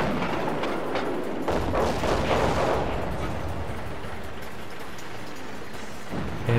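A KV-2 tank's heavy gun in World of Tanks fires with a loud booming blast that rolls off into a long, rumbling decay.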